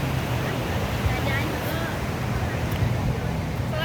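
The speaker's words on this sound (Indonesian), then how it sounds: "Dia ombak." Ocean surf rolls onto the beach at night at Taplau, Muaro Padang, a steady broad wash of breaking waves that continues without a break, with faint voices in the background.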